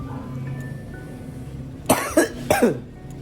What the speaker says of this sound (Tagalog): inuubo pa talaga ako